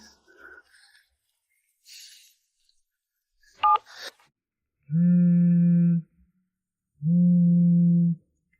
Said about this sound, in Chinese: 瑶瑶，是我，你终于肯接电话了